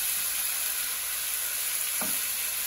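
Curry chicken sizzling in a pot with curry powder, a continuous bright hiss of frying with a brief scrape of stirring near the end, close and steady, no voices.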